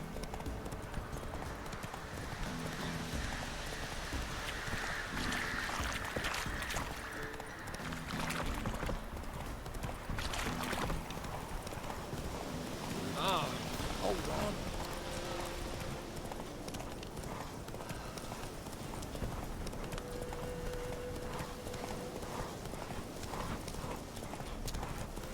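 Horse hooves clip-clopping in The Witcher 3 video game, a steady rhythmic hoofbeat pattern carrying through the whole stretch over soft ambient game sound, moderately quiet.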